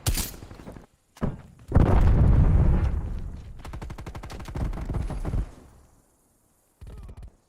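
Video game gunfire crackles in rapid bursts: a short volley, a brief break, then a long sustained stretch of shots, a few sharp single reports and a final short burst after a silent gap.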